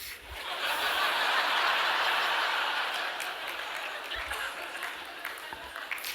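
A live audience breaks into a few seconds of applause and light laughter, a moderately distant wash of clapping that swells, then fades out.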